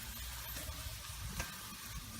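Garlic browning in a hot pan gives a steady, soft sizzle with faint crackles, fairly low and unbroken, with nobody speaking.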